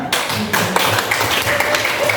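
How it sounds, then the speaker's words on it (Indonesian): A classroom of students gives a brief round of hand clapping, with the claps scattered and uneven, fairly loud and close, and no talking over them. "Tepuk tangan."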